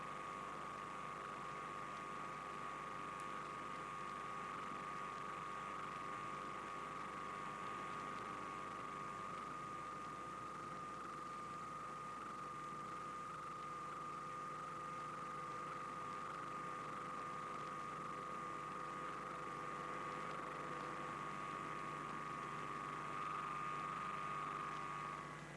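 A bomber's engines run steadily before takeoff in 1951, a constant droning hum with a high whine, heard alone with no voices at a fairly even level throughout.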